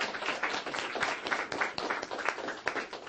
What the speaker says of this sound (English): Can we give a round of applause as a team?